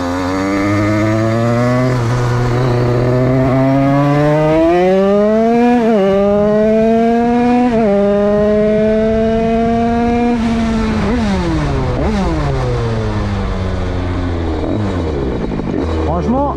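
A DRD 88cc moped fitted with a Stage6 Big Racing engine revs hard and close, its pitch climbing through repeated sweeps, dropping and rising again in loud, buzzing surges.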